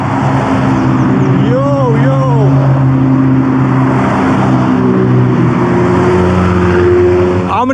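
McLaren cars driving past on a road along the West Highland Way in Scotland, a constant loud engine roar with a rising and falling pass-by tone, heard close, while people talk and exclaim over it.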